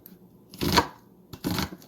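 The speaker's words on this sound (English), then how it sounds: "now just begin dicing the onion" A knife dices an onion on a cutting board, producing two distinct, close chopping bursts separated by a short pause.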